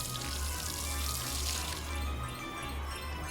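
Steady hiss of a water squirter spraying in the video game Disneyland Adventures, a continuous broadband rush that eases slightly partway through, with a low game hum underneath.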